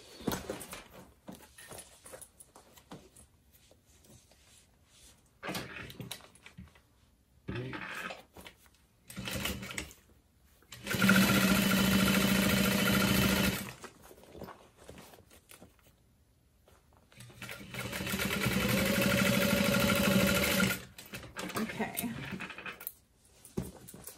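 Sewing machine stitching a zipper panel and side panel onto the exterior of a satchel bag, running in two sustained bursts of steady whirring with quieter handling noises between them.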